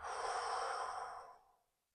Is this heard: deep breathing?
yes